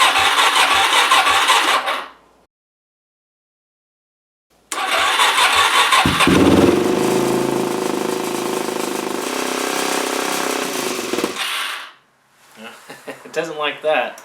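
A Suzuki DRZ400S motorcycle in 25-degree cold cranks and fires, running rough and surging for several seconds after a brief stop, then cuts out into a short stretch of quieter sputtering.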